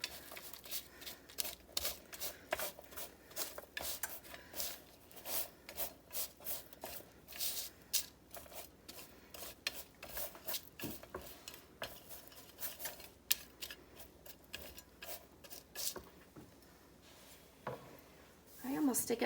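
Spatula scraping and stirring coconut almond granola across a metal baking tray, giving irregular dry scrapes and clinks in repeated bursts at close range, with occasional talk alongside.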